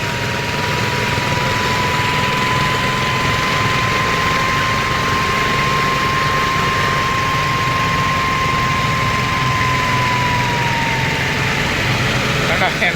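A laterite stone cutting machine's engine runs steadily and loudly throughout, a dense continuous drone with a sustained steady whine riding over it as the gear is changed.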